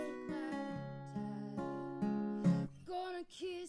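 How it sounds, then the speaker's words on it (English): An acoustic guitar recorded in stereo with small condenser mics plays clear strummed chords and sustained notes in a steady rhythm, close and alone. "the guitar part will sound like this"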